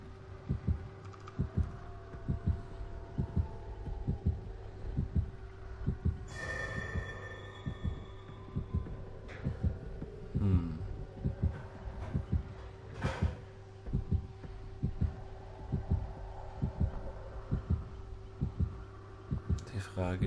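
Heartbeat pulse in the Dead by Daylight video game, a steady rhythmic low thumping that runs throughout at a regular pace, with a continuous hum, occasional game sound effects and faint talk over it.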